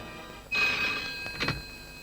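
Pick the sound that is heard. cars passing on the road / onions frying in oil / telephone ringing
telephone ringing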